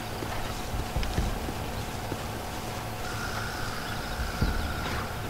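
Horse hooves clip-clopping in Red Dead Redemption, a steady run of hoof falls over a constant background of game ambience, moderately close with no talking.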